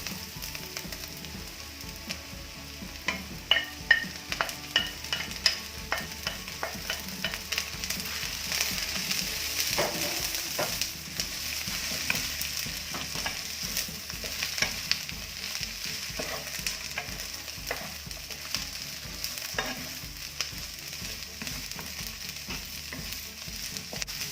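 Mixed vegetables for pancit being stir-fried together in a pan, a continuous close sizzle broken by frequent clicks and scraping stirs, with no talking.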